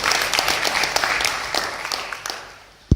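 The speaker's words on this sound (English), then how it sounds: "So we'll give them a round of applause for grooming so many entrepreneurs in women's category." A seminar audience applauds in a hall, with sparse, uneven clapping of distinct individual claps that thins out toward the end, closing on a single sharp thump.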